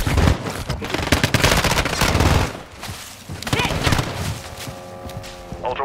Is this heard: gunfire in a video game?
yes